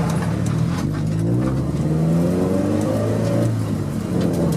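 A race car fitted with a shaped plexiglass windshield drives on a test run, its engine droning steadily and loudly with rising and falling pitch, heard from inside over constant road and wind rumble.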